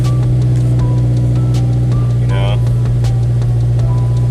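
Subaru Impreza engine idling steadily just after a cold start, a constant low hum throughout with people talking over it.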